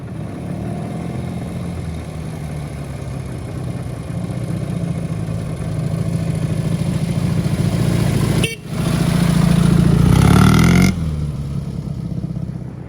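A motorcycle engine idles steadily nearby in a forest setting, then is revved up loudly for a couple of seconds before dropping back to a rumbling idle.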